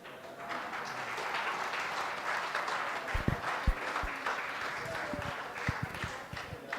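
An audience at a talk session claps in a soft, sustained wash of applause, with a few sharper individual claps standing out toward the end and a voice speaking over it.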